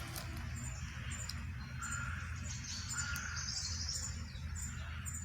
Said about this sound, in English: there's a lot of birds nesting here